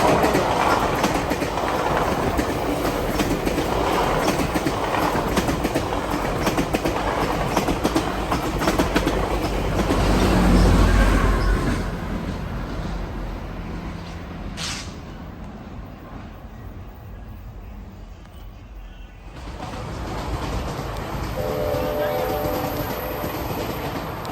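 A freight train rumbles and clatters past nearby, loud and steady, then eases off before a sustained locomotive horn rises toward the end.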